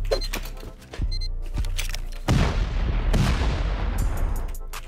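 Two C4 charges detonate against a base in Rust, heavy booming blasts landing a moment apart, with a rumbling roar lingering after them.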